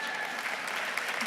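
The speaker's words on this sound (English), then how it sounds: "You can clap for that." Short burst of audience applause during a sportswoman of the year acceptance speech, a steady wash of clapping at moderate volume.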